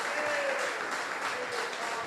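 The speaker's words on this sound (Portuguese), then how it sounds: "Aplauda Jesus." A church congregation applauds, a brief steady wash of many hands clapping at moderate distance, with a faint voice mixed in.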